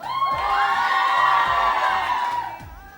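A TV studio audience shouts and cheers loudly at the host's prompt, a sustained roar of many voices with high whoops over it, swelling and then easing toward the end.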